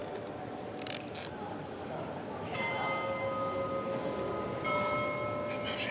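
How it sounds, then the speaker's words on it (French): Carillon bells of Notre-Dame de Paris cathedral ringing, clear sustained bell tones entering after a few seconds and struck again near the end, over a murmuring crowd ambience. "Le carillon va-t-il sonner?"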